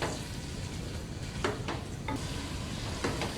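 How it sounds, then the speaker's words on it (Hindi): Mutton cooking in a pot with beaten yogurt for yakhni pulao, a steady close sizzle with a few sharp scrapes of a spoon stirring against the pot, loud and continuous. "इसे ऐड करके हम साथ में इसके मटन के पका लेंगे 2 से 3 मिनट तक।"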